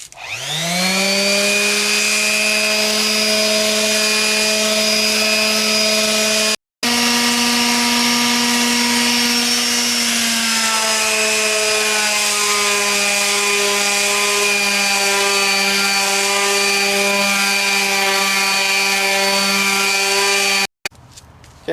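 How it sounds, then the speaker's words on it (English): A power sander runs steadily on a wooden log planter, a loud continuous whine with a strong tone that drops slightly in pitch partway through, cutting out briefly twice before stopping near the end. "So we'll get the sander out."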